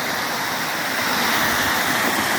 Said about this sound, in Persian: این بالای آبشاره